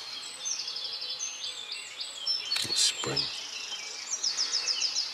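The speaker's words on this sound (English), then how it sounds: "And the birds are in full song." A dawn chorus in a spring wood: several birds sing overlapping, bright trilling phrases close by, with brief rustling and a short spoken remark partway through.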